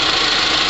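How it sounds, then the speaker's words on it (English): A car engine idles with a loud, steady, close-up hum and rumble that holds even throughout, with no voices. "it's been 10 minutes with the engine running"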